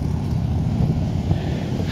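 Motorcycles run along a coastal highway beside the ocean in Northern California, heard as a steady, fairly loud low engine and road rumble with no distinct pass-by peak.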